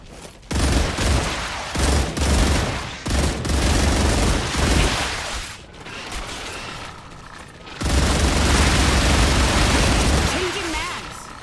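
Shotgun gunfire in the sci-fi game StarRupture: heavy blasts in quick bursts, loud and close, broken by short gaps and a longer sustained volley, with a voice talking over parts of it.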